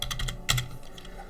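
Computer keyboard being typed on while entering a network name in a crypto wallet: a quick run of close, crisp key clicks with one louder keystroke midway and no talk.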